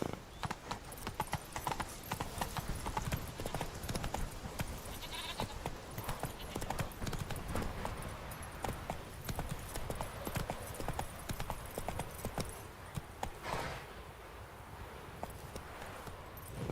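Horse hooves clip-clopping in a fast, steady rhythm as the horse Roach runs in the video game The Witcher 3, loud and continuous with occasional faint background noise.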